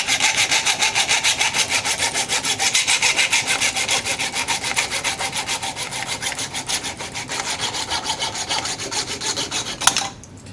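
A saw rasps steadily through the plastic barrel plate of a Nerf pistol, rhythmic strokes cutting close and loud for about ten seconds before a sharp snap as the piece comes free.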